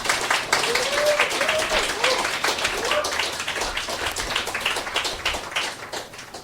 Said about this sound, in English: Twice as many claps for Jackson for founding Perth Poetry Club in the first place.